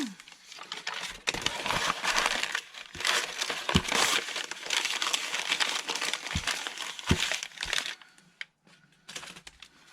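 Continuous crinkling and rustling of indigo-dyed paper being pulled open, close and busy for several seconds, then tapering to sparse crackles.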